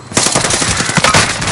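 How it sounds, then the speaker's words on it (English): Rapid machine gun fire in the Call of Duty gulag, a loud close burst of quick repeated shots lasting just over a second. "Under heavy fire here."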